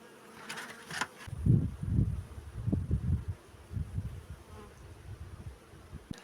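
Honey bees buzz close by in a low, wavering drone that swells and fades, with a few faint clicks and rustles.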